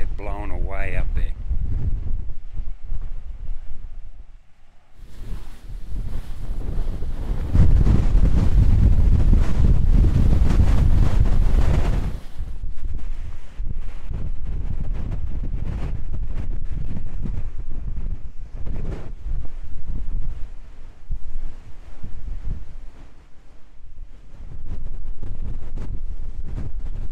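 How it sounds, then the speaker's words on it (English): Strong wind gusting on an exposed mountainside near Stilwell in Kosciuszko National Park, buffeting the microphone with loud, roaring bursts, heaviest in the middle, then settling into a constant rushing bluster. "Sheltered on this side, but the wind's really strong."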